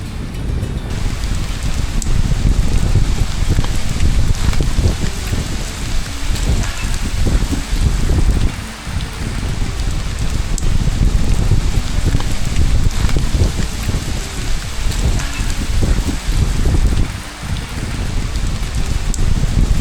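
Steady rain falls at a hilltop temple in Kerala, a dense, close hiss of drops on surfaces with gusts of wind buffeting the microphone, continuous throughout with no voices.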